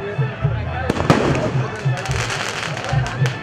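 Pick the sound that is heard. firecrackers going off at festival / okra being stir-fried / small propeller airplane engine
firecrackers going off at festival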